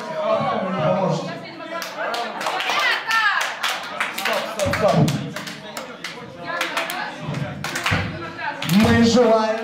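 Audience clapping along at a live rock concert, sharp rhythmic hand claps mixed with shouting voices and crowd noise.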